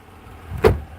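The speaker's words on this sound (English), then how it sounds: "So look, the door hits the fender." A single dull metallic thunk of a car door knocking against the fender, brief and close, with quiet background before and after.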